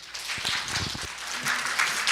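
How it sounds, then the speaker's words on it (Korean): Audience applause greets a party leader taking the stage for a lecture at a party event, a steady wash of clapping filling the short stretch at moderate level, with no talk over it. "큰 박수로 부탁드립니다."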